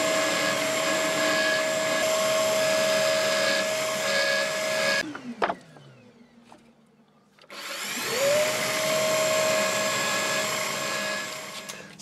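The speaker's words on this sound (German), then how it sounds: "das bohre ich dann jetzt hier senkrecht da rein" A power drill whines steadily at high pitch, boring vertically into wood, stops briefly with a few clunks, then spins back up and runs on continuously, close and loud.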